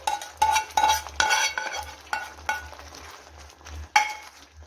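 A spoon stirs boiling tomato chutney mixed with crushed chilli thecha in a pan. Several sharp scrapes and clinks against the metal come close and loud, separated by short pauses, over a soft bubbling simmer.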